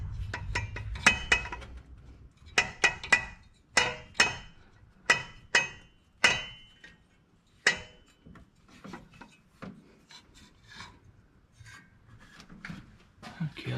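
An alternator being worked on an engine knocks and clinks against a bolt on the head, a series of sharp metallic taps and scrapes in irregular bursts, close up.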